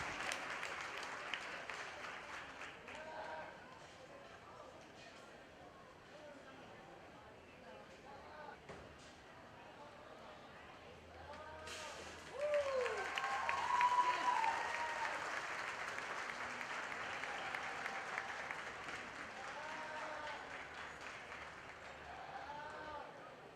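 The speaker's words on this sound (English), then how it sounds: "let's just go ahead and give everybody one more round of applause" A crowd in a show ring at a 4-H and FFA market goat show breaks into applause partway through, the clapping swelling and holding steady while an announcer talks over a PA before and during it.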